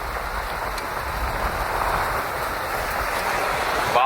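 Heavy monsoon rain lashes down during a storm in Vile Parle, Mumbai, a dense, steady roaring hiss of downpour with no break, heard alone without voices.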